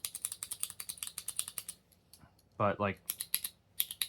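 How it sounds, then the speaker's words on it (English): Studio Neat Mark One aluminum pen mechanism clicking in rapid, close, sharp repeated clicks, pausing briefly while someone speaks a couple of words, then the clicking resumes. "that's a click"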